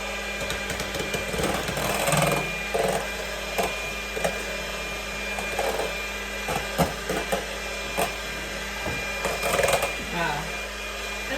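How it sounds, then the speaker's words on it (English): An electric mixer whips meringue for a gluten-free lemon meringue pie, a steady whirring drone with rattling bursts, and occasional speech. "Let the mixer do the work."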